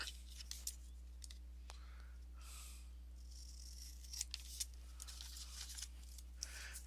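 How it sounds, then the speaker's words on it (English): Scissors cut a square from a small piece of red scrap paper, faint crisp snips and rustles coming in short bursts close by over a low steady hum. "And what I'm going to do is I'm just going to cut a square."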